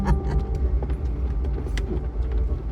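An off-road vehicle drives across Badlands terrain, with a steady low engine and tire rumble heard from inside the cabin and small rattles and knocks over the bumpy ground, no talking.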